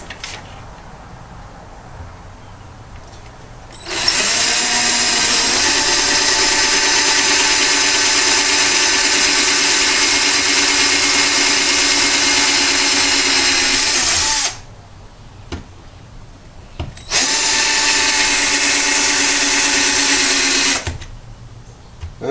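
A power drill bores marked holes in two long bursts, each whining loud and steady at high speed, with a short quiet pause between them.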